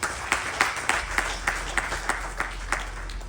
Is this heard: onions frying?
no